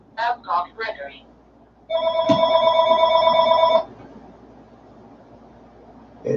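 An electronic telephone rings with an incoming call, one sustained tonal burst lasting about two seconds, clear and close, with someone speaking before and after it.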